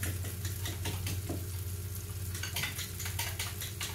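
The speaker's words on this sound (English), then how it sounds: "we got the eggs beat up" Eggs whisked briskly in a bowl at home, the rhythmic scraping strokes sitting over a steady low kitchen hum, with no talking.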